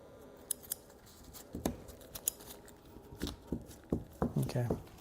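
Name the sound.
trimmers cutting edge trim on acrylic panel frame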